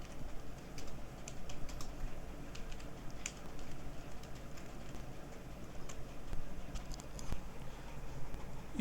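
Contents being typed on a computer keyboard for a final-year engineering project application, a steady patter of quiet key clicks running throughout at low volume.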